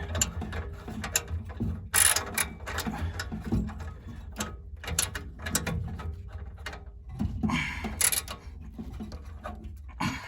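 Ratchet wrench tightening a part during a no-heat repair on a Lennox heating unit: quick clicking ratchet strokes in repeated bursts, close and fairly loud, with no talk.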